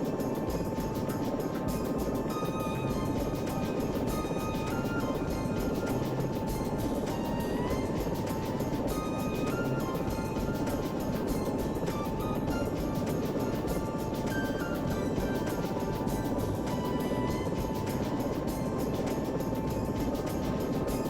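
Steady rotor drone and engine whine of a rescue helicopter landing in the SAR4 flight simulator game, a constant mid-level roar with no break and no talk.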